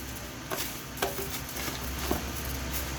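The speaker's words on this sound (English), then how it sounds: "Give us a stir. Make sure you mix this in well and make sure all the rice gets covered in that delicious oil" Rice grains in oil being stirred in a pot for rice pilaf, a quiet scraping and light clinking of a spoon against the pot over a soft, steady sizzle.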